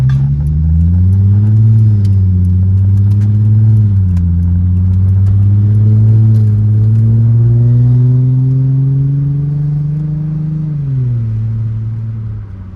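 A 2004 Chrysler Crossfire engine heard loud and close while driving, climbing steadily in pitch through the gears with brief dips at the shifts, then easing off toward the end.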